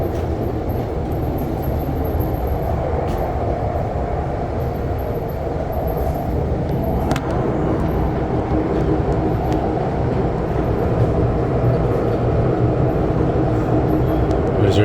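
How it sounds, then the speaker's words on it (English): A REM light-rail train hums and buzzes steadily under dynamic braking, a continuous rumbling ride noise with faint rattles throughout, heard from inside the car. "So that buzzing you hear is basically the dynamic braking, I'm told, which is the type of brakes that they use here."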